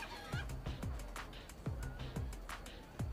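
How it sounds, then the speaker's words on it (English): Chickens in the Minecraft Story Mode video game make short repeated clucks and squawks, several calls spaced through the clip over a low background hum and game ambience. "After I watch one more chicken get owned."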